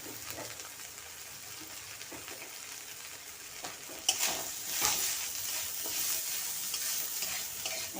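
Grated coconut fries in a pan with salt, red chili powder and turmeric, giving a soft, low sizzle. Stirring scrapes and clatters grow louder in the second half, with no talk.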